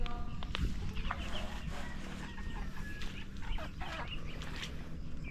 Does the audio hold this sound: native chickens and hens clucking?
yes